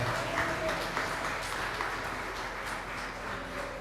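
Applause from a church congregation during a communion service, a steady wash of clapping held at an even level for several seconds with no voices over it.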